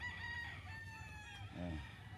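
Chickens at a Philippine poultry breeding farm, with a rooster crowing once near the middle over a steady background of low clucking and farm noise.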